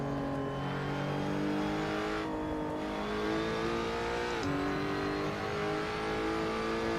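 A car engine in a racing simulator on a backcountry course hums steadily and revs in rising and falling pitch as the tires warm up, with a brief dip and swell near the middle, close and continuous with no talk.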